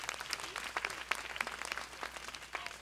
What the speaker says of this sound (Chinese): 所以再给他一个掌声鼓励好不好？